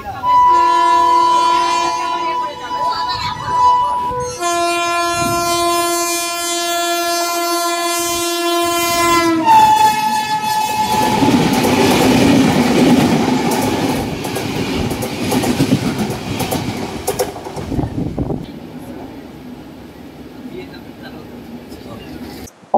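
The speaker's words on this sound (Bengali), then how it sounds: "আসছে train number 12259 Sealdah Bikaner AC দুরন্ত এক্সপ্রেস।" Train number 12259, the Sealdah–Bikaner AC Duronto Express, arrives with long, loud horn blasts, followed by a heavy rolling rumble and wheel clatter that fade as it passes.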